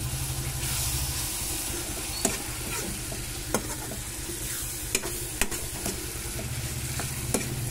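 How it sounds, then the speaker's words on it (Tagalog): Ginisang kamatis, sautéed tomatoes, sizzles steadily in a pan while being stirred, with a constant frying hiss and a few sharp utensil clicks against the pan scattered throughout. "Tapos haluin natin."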